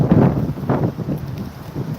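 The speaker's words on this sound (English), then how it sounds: "But I'll take that wind gust" An outdoor wind gust buffeting the microphone in low, rumbling surges that rise and fall for about two seconds, with no talk over it.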